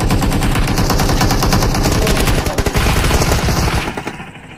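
Rapid automatic gunfire in the BGMI battle royale game, a loud continuous burst of shots that stutters into separate bangs near the end and then fades out, with no talk over it.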